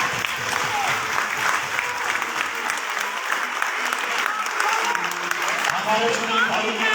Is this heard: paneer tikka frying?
no